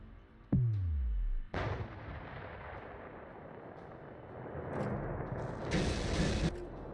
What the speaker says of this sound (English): Missiles out to hit that destroyer there.